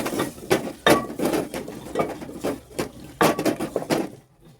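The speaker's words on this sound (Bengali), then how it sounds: "টমেটোগুলো আমি কুচিয়ে নিচ্ছি, কেটে নিচ্ছি।" Knife chopping tomatoes on a board for a Bengali fish curry with potatoes, a steady run of sharp close taps about twice a second that stop just before the end.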